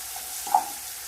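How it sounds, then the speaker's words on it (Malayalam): Onions with sugar sautéing in a pan for a Kerala egg roast give a steady, soft sizzle and hiss throughout, with a brief stir-like swell midway and no voices. "നന്നായി വഴറ്റുക"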